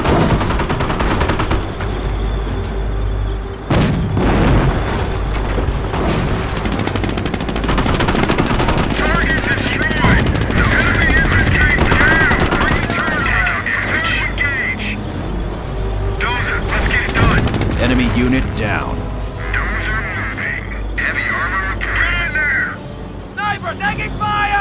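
Intense Company of Heroes Normandy battle with machine-gun bursts and rifle fire crackling, continuous and loud, punctuated by booms, with shouted soldier voices talking over the fighting.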